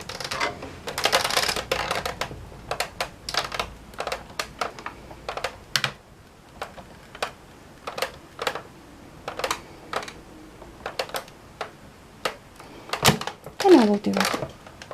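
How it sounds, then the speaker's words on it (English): Cardstock cranked by hand through a die cutting machine, a run of short clicking and ratcheting bursts at close range with a brief squeak near the end. "And wind it through my die cutting machine."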